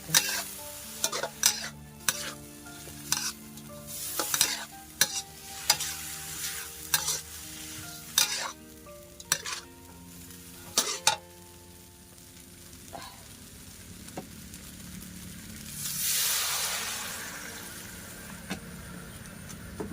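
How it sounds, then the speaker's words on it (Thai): Metal utensils clank rhythmically against a wok over a sizzle as instant noodles stir-fry, then the clanking stops and a burst of hissing soup stock poured in follows as frying continues. "พอเราผัดเราก็เอาน้ำซุปใส่"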